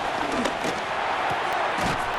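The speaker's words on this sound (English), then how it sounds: "The crowd making their presence felt" Stadium crowd roar in the Madden 26 football video game, Patriots against Steelers, a steady dense wash of cheering with a few thuds, continuous and fairly loud.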